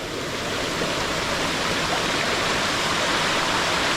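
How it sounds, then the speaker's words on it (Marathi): A loud, unbroken roar of a waterfall in the Konkan region, steady and broadband from start to finish, with no voices. "खूप छान असा हा धबधबा आहे"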